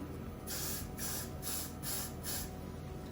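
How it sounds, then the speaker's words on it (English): Four short hissing bursts of hair spray from a can onto a brush, evenly spaced, close by, over quiet background noise. "Like to just spray a little bit of Gots to Be"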